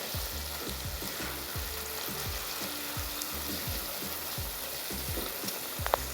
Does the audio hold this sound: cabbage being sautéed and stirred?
yes